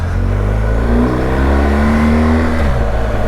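A 2022 BMW R1250GS Adventure motorcycle pulling away, its engine rising in pitch through the revs and then dropping as it shifts, loud and close with steady wind rush.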